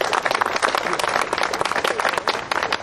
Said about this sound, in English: So let's give them all a round of applause here.